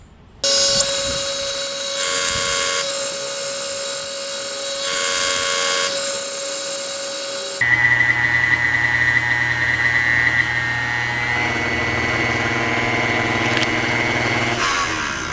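A pasta machine rolls sheets of fresh pasta dough with herb leaves pressed into them, first as a loud, steady high-pitched mechanical whine that cuts out and then as a lower humming drone, all close up.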